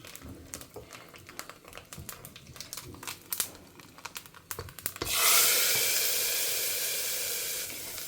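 Mustard seeds and urad dal hit hot coconut oil in a ladle for tempering greens, first crackling and popping in scattered bursts, then breaking into a loud, continuous sizzle that slowly fades.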